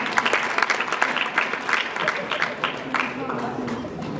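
Audience at a comedy show in Burundi clapping in irregular bursts, a few distinct claps standing out over a steady background of applause, with talking mixed in.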